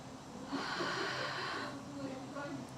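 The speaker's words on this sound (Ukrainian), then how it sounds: "на видих шиплячи, все наче збираємо і робимо гарний видих" A person exhales slowly with a long, soft hiss after a belly breath, followed by quieter breathing.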